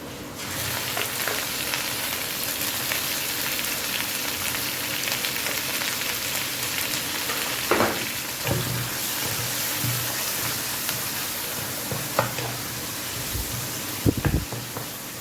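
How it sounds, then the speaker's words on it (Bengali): Chopped onions frying steadily in hot oil for a katla fish curry, a continuous close sizzle with a few clinks and stirring knocks near the end. "পেঁয়াজটা আমার ভাজা হয়ে গেছে, এখন এর মধ্যে আমি তেলগুলো সব দিয়ে দিব।"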